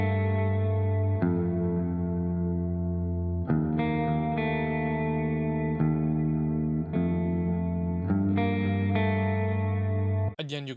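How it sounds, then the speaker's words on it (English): Clean electric guitar run through effects such as chorus, echo and reverb, playing sustained chord changes for a beat, steady and fairly loud with no voices. "For this part, I also added this clean guitar."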